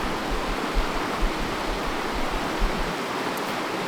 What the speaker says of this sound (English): you just see the water that's rushing right past you